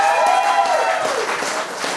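Guests at a birthday gathering in Moscow clapping together, a dense, loud and steady patter that fills the room throughout, with a brief sustained voice rising over it near the start.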